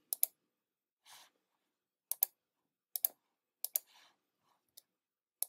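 Computer mouse clicks in a CAD drawing program, crisp close double clicks repeating about every second, with a few softer single ticks in otherwise quiet surroundings.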